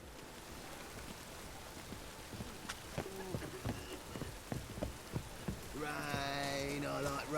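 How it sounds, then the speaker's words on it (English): Steady rain patters down across a scene in The Witcher 3: Wild Hunt, a continuous hiss with scattered knocks and thuds. A voice speaks over it near the end. "Rain, I like rain."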